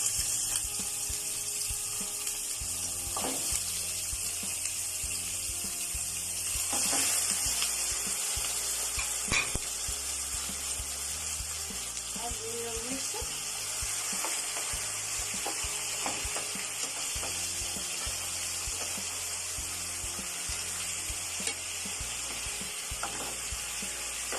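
Chicken pieces frying in a pan for a coconut milk chicken curry, a steady bright sizzle with faint stirring and scraping clicks, fairly quiet and close, with no talking.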